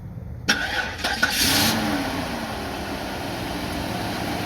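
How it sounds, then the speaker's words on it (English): A 2003 Cadillac DeVille engine cranks briefly and catches, then settles into a steady, moderately loud idle close by, with no talking. "Let's start it up and let's see if it comes on the way it's supposed to, if the engine's cold enough."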